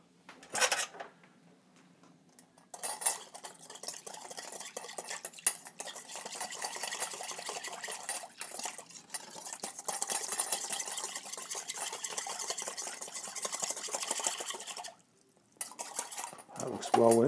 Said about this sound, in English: and we're going to whisk it.